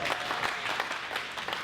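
A crowd at a book talk with a best-selling author breaks into sustained applause, many hands clapping in a thick, even rattle at moderate volume with no pause.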